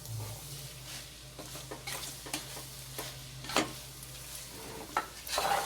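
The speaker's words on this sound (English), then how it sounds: "just stir around the bacon and the pasta" Bacon and pasta being stirred in a pan for carbonara over low heat, with a steady soft sizzle and repeated scraping strokes and light clinks from the utensil, close by and with no one talking.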